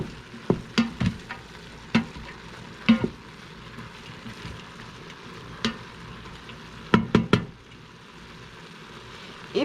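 Celery and a yellow onion sautéing in an Instant Pot, with a soft continuous sizzle and close, sharp clacks and scrapes of a utensil in irregular bursts, the busiest flurry near the end.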